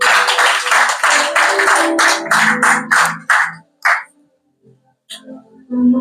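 Church congregation clapping and cheering in praise of Jesus during a French-language sermon, a burst of dense applause and shouts fading into scattered claps, then a brief pause and faint voices.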